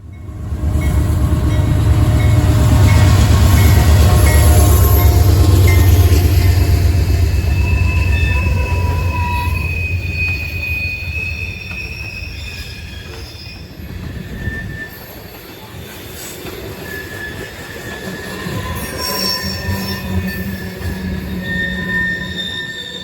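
A long CSX freight train rumbles past at close range at Point of Rocks, Maryland, wheels squealing and grinding steadily, the roar slowly easing as the cars keep rolling by.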